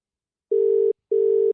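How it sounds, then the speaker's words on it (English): A phone line rings on an outgoing call, two even electronic ring tones with a short gap between them, clear and alone. "It's ringing."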